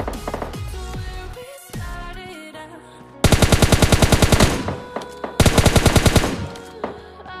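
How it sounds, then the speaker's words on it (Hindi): M16 gunfire in the video game PUBG Lite: two loud, rapid automatic bursts of evenly spaced shots ring out close by, following a stretch of quieter game sounds. "और आपने कहा यहाँ पे फायर साउंड तो सुन ही लिया होगा"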